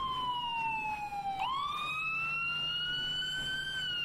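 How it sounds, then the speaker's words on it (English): A police siren in the video game Arma 3 wails, sweeping down in pitch, then slowly rising again, steady and fairly loud over a low rumble, with no voices. "That siren is the most annoying shit ever."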